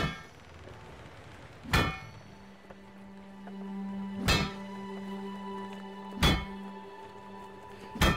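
A hammer strikes a lump in the game Spiritfarer, four sharp metallic clangs spaced a couple of seconds apart, each ringing briefly over a quiet tonal backdrop.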